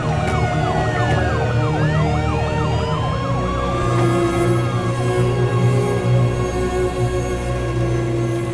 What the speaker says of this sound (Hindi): एम्बुलेंस को आने दो।